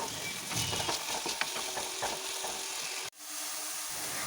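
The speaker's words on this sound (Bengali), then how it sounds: "এরপর আমি বরবটিগুলো আগে ভেজে নিচ্ছি।" Yardlong beans fry in a kadai for khichuri, giving a close, steady crackling sizzle that cuts off abruptly near the end, leaving a quieter background.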